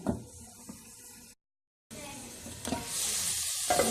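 Vegetables for veg noodles sizzle and fry in a pan, close up, with a short gap of silence and a brighter hiss returning after it, plus a few stirring clicks.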